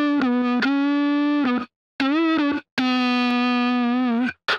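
A voice run through a distortion plugin in FL Studio gives a buzzy, harmonic-rich sustained tone. It comes in three held phrases with short gaps between them and ends in a brief blip.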